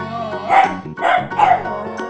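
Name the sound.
dog barking, from a toy animals video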